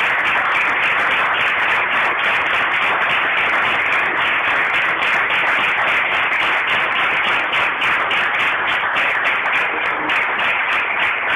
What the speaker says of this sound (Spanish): despedimos al doctor Caporetto con un fortísimo aplauso